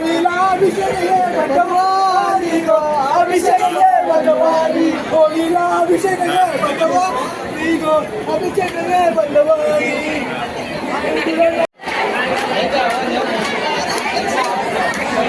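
Pilgrims of the Agri-Koli community chatter densely in a long queue at Ekvira temple near Pali during the 2025 yatra; a steady, loud babble of many overlapping voices runs throughout, broken by a split-second dropout near the end.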